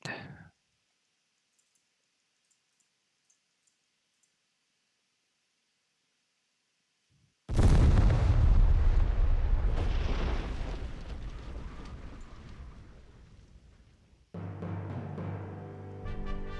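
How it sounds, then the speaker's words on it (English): In the Triangle Strategy video game, a cannon blasts through a goddess's shield: after near silence, a sudden loud boom erupts and rumbles away over several seconds, then music enters. "The cannon blasts through the goddess's shield as easily as iron through flesh."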